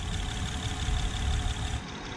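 A 2011 Honda Pilot engine idles steadily after an overhaul, giving a close, even low rumble with a faint higher whine on top. The sound stays constant for about two seconds and then drops slightly. No one speaks.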